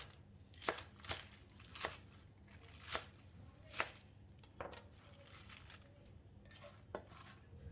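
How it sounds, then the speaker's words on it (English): Knife chops broccoli into bite-sized pieces on a cutting board, about ten crisp, spaced knocks at an uneven rhythm, close and fairly quiet with no talk. "Next, cut the broccoli into bite-sized pieces to detach from the stem."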